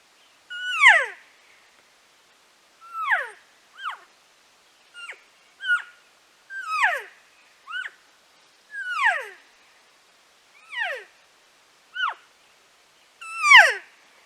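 Diaphragm call blown to imitate turkey herd talk, a string of about a dozen short, descending mews and chirps spaced irregularly, clear and close against silence.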